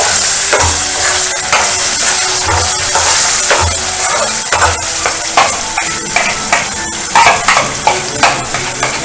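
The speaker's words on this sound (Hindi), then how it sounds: "अब हमारी हरी हरी पालक जो है अच्छे से मसाले में भून रही है" Fine spinach paste fried in masala, a loud continuous sizzle with rhythmic spoon stirring and scraping against the pan, steady throughout and close.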